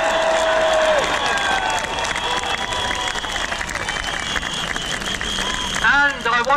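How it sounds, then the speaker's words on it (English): Large protest crowd in Trafalgar Square, London, applauding and cheering for healthcare professionals, loud continuous clapping with shouts mixed in, and a brief tonal whistle early on, ending as a voice speaks. "I want to applaud them for being here now"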